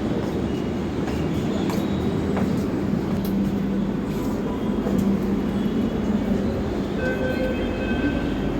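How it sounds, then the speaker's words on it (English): A train rumbles loud and close in a continuous heavy roar, with faint wheel squeal and metallic tones over the steady rail noise. "Oh, this train is waiting right here."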